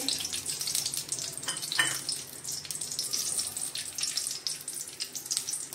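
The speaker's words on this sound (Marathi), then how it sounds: "त्याच्यामध्ये मी आता मनुके भाजून घेते" Raisins fry in two spoons of ghee with a soft, continuous crackling sizzle, faint and even throughout.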